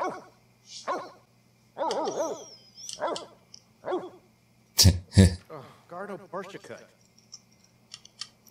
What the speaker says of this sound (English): Let's see what the dog does.